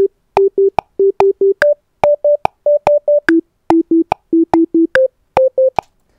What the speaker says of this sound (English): So listening to that straight eighth notes, it's going to sound like this.